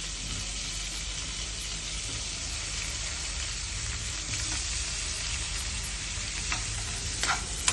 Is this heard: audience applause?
no